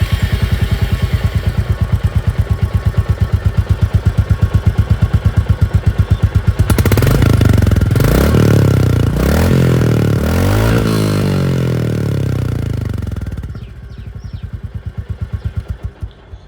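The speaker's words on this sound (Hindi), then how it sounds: "तो ये दोस्तों आप लोगों ने यहाँ पर इसकी जो आवाज़ है वो आप लोगों ने सुन लिया।" A 2024 Royal Enfield Classic 350 single-cylinder motorcycle idles with a close, loud, even thump from its exhaust, then revs hard for several seconds before dropping back to a lumpy idle.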